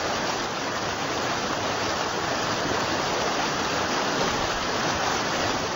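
A river in remote Dusun Makmur, Maros, South Sulawesi, is crossed by election workers carrying logistics. The water makes a loud, continuous, close roar of rushing flow with no voices.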